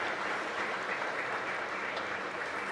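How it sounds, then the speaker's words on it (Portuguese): An audience applauds at the close of a talk on supply chain and AI, a steady, dense wash of clapping that holds evenly for a few seconds without voices. "I think we could have a round of applause."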